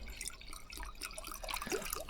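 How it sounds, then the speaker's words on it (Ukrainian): Still water poured into a glass jar outdoors, a faint, close trickle with small splashes and dribbles, no voices. "Беремо банку, беремо воду негазовану, наливаємо в банку води"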